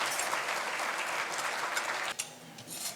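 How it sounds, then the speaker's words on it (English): Crowd at a South Florida Muslim community organizations event applauds in a steady wash of clapping, fading slightly and dipping briefly near the end. "Big round of applause for Mohamed Shakir."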